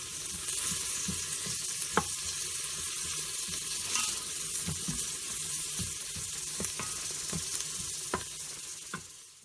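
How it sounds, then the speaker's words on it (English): Beef short ribs sizzling in a hot pan while being tossed with salt, pepper and hoisin sauce, a continuous close frying hiss broken by repeated sharp clicks and scrapes of stirring. "Now let's toss the short ribs and add some seasoning"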